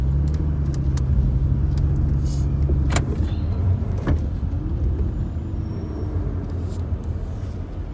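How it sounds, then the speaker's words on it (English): Road traffic in Kingston, Jamaica rolls past steadily with engine drone and a low idling hum, with a few sharp knocks and clicks and a passing vehicle swelling and fading. "a little traffic going down, but as you see, traffic coming up"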